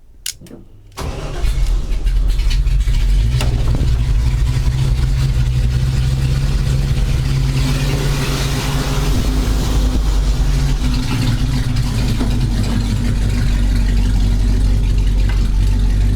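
A car fitted with a swapped LT1 V8 cranks briefly and fires up, then settles into a steady, loud, close idle with a deep rumble that holds for the rest of the clip.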